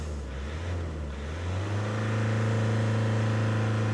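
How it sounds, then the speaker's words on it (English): A 2013 Vauxhall Astra J 1.7 CDTi diesel engine with a high fuel pressure fault idles low, then climbs and holds a steady, loud drone at the rev limiter, with no talking. "So there's rev limiting on it"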